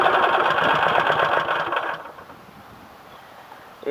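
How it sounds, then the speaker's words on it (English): A small MTD 179cc engine sputters in an uneven run for about two seconds, then cuts out, leaving a low, quiet near-silence after it dies. "I tried giving it some gas and it died."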